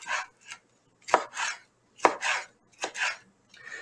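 Tomatoes being diced on a cutting board for chili, with sharp knife chops alone and close in uneven pairs and small clusters.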